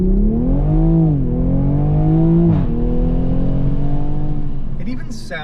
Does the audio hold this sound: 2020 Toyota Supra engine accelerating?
yes